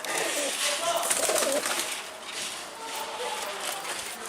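Pigeons coo in soft, low repeated calls from a street coop against a steady outdoor background hiss, the cooing strongest early on before settling under ambient noise.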